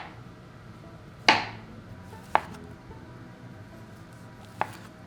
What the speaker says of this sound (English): The mushrooms, dust those off, and then just thinly slice.